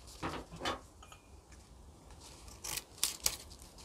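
Scissors snipping through leaves, a few quiet, close crisp cuts at irregular spacing, with a pair of sharper snips near the end.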